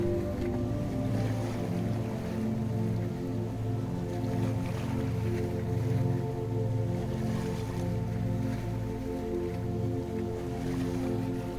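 Ocean waves wash in a steady, continuous surge, with a low droning hum running underneath and no voices.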